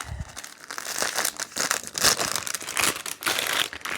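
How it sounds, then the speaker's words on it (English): A crinkly plastic bag is ripped open and handled up close, giving a continuous, dense stream of sharp crackling and crumpling noises with no voices. "Oh, rip the bag."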